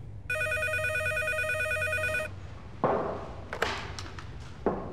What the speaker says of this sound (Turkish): Komutanım, Fethi Üst Çavuş'uma bir telefon var.